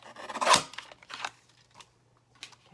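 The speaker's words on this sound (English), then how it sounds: "I'm going to just grab my little cutter right here." A small paper cutter trims the end off a sheet of paper for a birthday craft, one loud close slicing swish followed by a few fainter scraping and handling sounds.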